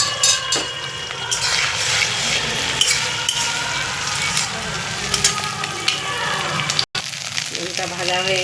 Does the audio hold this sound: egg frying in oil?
yes